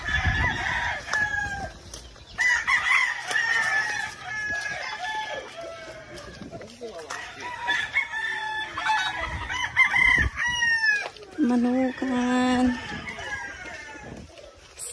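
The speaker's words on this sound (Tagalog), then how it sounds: "Manukan sa ilalim ng sagingan." Chickens cluck and a rooster crows repeatedly at a farm poultry pen under banana plants, with several bird calls overlapping at close to moderate distance; a person can be heard talking in between.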